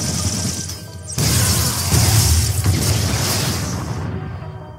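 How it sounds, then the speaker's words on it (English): Dense, rumbling Halo: Combat Evolved explosions and crackling blasts roll together for several seconds, loud and continuous before cutting off abruptly. "there's so many extra explosions that didn't need to be there"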